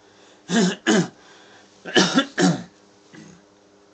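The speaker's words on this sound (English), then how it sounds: "smoker's cough, I gotta quit one of these days." A smoker's cough: two pairs of rough, hacking coughs sound close by, with a quieter cough trailing after. No talking.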